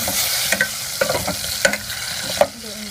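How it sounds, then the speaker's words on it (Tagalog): Food sautés in a pan on a portable gas stove, sizzling steadily while a utensil stirs and scrapes in a series of sharp, irregular clacks, close and clear with no talking. "Parang igigisa lang natin siya."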